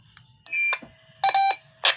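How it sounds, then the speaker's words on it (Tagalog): A short series of electronic roger beep tones from a radio, a few brief bursts in quick succession, loud and close with short pauses between them. "So yung Roger Beep niya yan."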